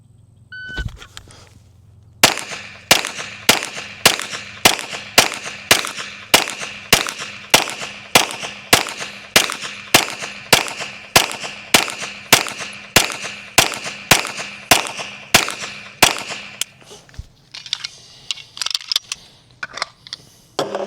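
A long string of handgun shots fired from the draw at targets, about two dozen crisp evenly spaced cracks roughly every half second, loud and close, ending in a brief jumble of quieter clatter.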